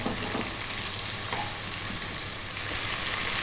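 Chopped onions frying in a hot pan for chana dal, a dense, even, loud sizzle that runs unbroken throughout with a faint low hum underneath and no talking.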